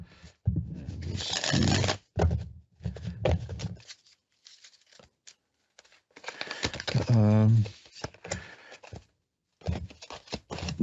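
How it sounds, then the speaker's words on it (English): Tarot cards are shuffled in bursts of papery riffling and patter, broken by short pauses, close to the microphone, while a voice murmurs briefly between them. "I'll shuffle them up again."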